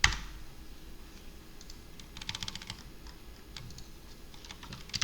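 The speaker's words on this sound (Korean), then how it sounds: "요거 컨트롤 A 눌러서 F9 누르시면 돼요." Keys on a computer keyboard are pressed in a short burst of quick plastic clicks. A sharp click opens the sequence, and a few more taps come later, all close and fairly quiet against a low room hiss.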